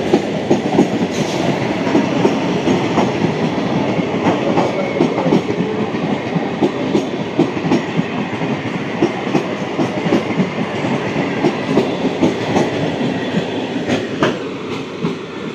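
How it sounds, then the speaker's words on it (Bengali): A 12-coach Sealdah–Shantipur up local train passes close by, a loud, steady rumble with rhythmic clickety-clack of wheels over rail joints running throughout, with no talk. "দেখুন 12 বগির ট্রেন গেল আপ শিয়ালদা শান্তিপুর লোকাল"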